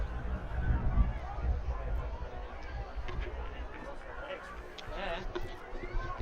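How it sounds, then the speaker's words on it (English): A sizeable crowd at a country football match in Mount Pleasant makes a steady murmur of chatter and distant voices, with a commentator speaking over it throughout. "There's a fair old crowd there."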